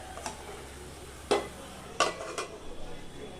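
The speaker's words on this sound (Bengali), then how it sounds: "এটা ধীরে ধীরে এটাকে নিয়ে ভাজতে হবে আস্তে আস্তে।" Thick chunks of boiled potato fry slowly with ridge gourd in a pan, a faint steady sizzle under a few sharp spatula scrapes and knocks against the pan, quiet and close.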